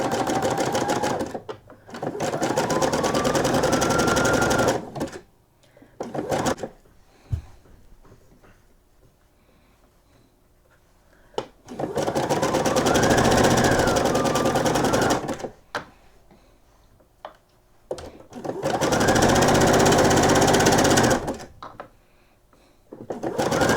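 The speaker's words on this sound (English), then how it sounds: "I'm once again going to stitch close to the edge of the lace with a zigzag stitch" A domestic sewing machine runs zigzag stitching along a lace edge for a nightgown in three long, steady bursts, each separated by pauses of near quiet.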